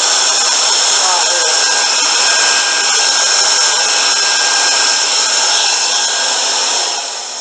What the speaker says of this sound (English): It's got a different motor in it.